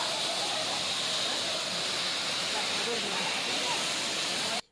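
Kothapalli waterfall in Alluri district, heard as a continuous loud hiss of falling water, with a voice speaking over it before it cuts off abruptly.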